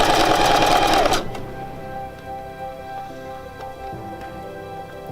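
A sewing machine stitches a fabric pouch for a Renaissance faire, a loud fast whirring burst for about a second, then softer mechanical ticking and clicking as the work continues.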